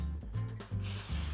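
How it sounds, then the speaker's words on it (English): Vegetable oil spray spritzes onto tortillas in a few hissing bursts, a short one, then a longer one, then a final sustained spray, close and fairly loud, with no talking. "I'm going to spritz them with some vegetable oil spray so that our cinnamon sugar mixture sticks."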